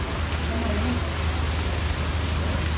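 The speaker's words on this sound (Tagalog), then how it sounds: "At yan, umuulan na." Rain pouring down in Bahrain, a dense, steady hiss of falling water close by, with a low rumble beneath and a faint voice in the background.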